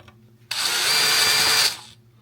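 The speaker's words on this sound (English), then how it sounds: "I'm going to go back to the other one with the larger drill bit." A power drill with a Phillips bit drives a screw in one steady, loud, high-pitched whine lasting just over a second, close up, with quiet room hum before and after.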